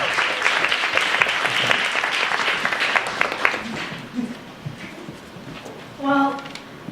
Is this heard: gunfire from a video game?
no